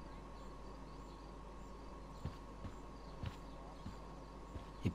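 Footsteps in the game Life Is Strange: Before the Storm, a series of soft, evenly spaced thuds, six or so, over a quiet steady hum.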